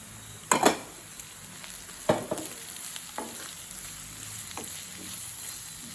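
Onions and carrots sauté in a pan for egg kottu, giving a soft, low sizzle broken by a few sharp scraping stirs, the loudest near the start, then quieter clinks and scrapes.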